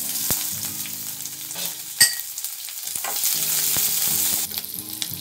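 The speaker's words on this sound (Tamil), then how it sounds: "அடுத்தது வெங்காயம் சேர்த்துடலாம்." Chopped onion frying in hot oil with mustard seeds and curry leaves for a Tamil tomato curry, a steady close sizzle with scraping stirs and a sharp clink of a utensil against the pan.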